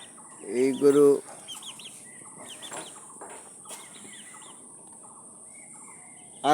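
Chickens cluck in a farmyard where a cow was bought, a few short nearby clucks and calls early on, then fainter scattered clucks, with no talk.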